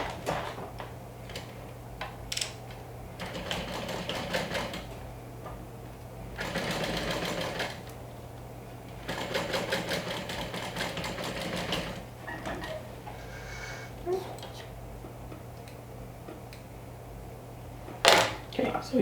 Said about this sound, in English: So center it and stitch it down.